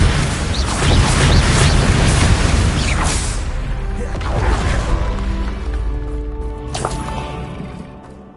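A Bombarda spell blast in Hogwarts Legacy, a loud booming explosion with crashing debris that rumbles and decays over several seconds, followed by a sharp impact and softer game ambience.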